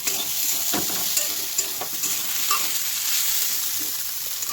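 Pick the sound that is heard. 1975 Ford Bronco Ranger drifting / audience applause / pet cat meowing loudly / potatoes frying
potatoes frying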